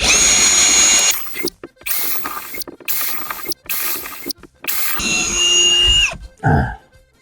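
A power drill with a larger bit whines loudly in several bursts separated by brief pauses while drilling a window frame for a trickle vent, ending with a short, lower grinding spin.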